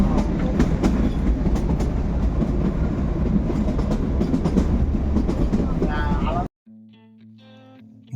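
The Kalka–Shimla toy train runs along the narrow-gauge rails with a loud, continuous rumbling clatter and rhythmic wheel clicks, heard from inside the coach, before cutting abruptly to near silence at the end.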